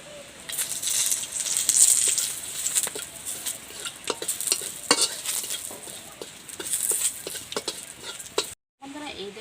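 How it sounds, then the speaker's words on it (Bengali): Whole garam masala spices dry-roasting in an empty kadai without oil, stirred with a utensil: dry crackling and rattling scrapes in an irregular patter, close and steady, with a short silent gap near the end. "আমি কিন্তু খালি কড়াই আমি প্রথমে গরম মশলাগুলো ফুটিয়ে নেব"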